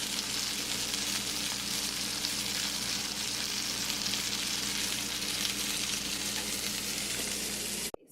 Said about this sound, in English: And the tilapia is frying.